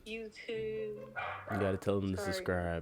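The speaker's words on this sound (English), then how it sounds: "Excuse the dog." A small dog indoors lets out several close, high yips and barks that overlap with someone talking.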